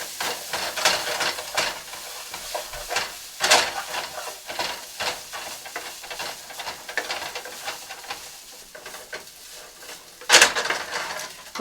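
Fried ramen noodles stirred in a hot pan, with repeated scraping and clattering of a utensil against the metal over a low sizzle, close and fairly steady, with one louder clank near the end.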